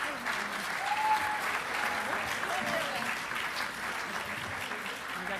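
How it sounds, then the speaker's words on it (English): Steady applause from a school audience at a high school student awards ceremony, dense even clapping at moderate volume with a faint whoop or voice rising briefly over it. "All right, clap."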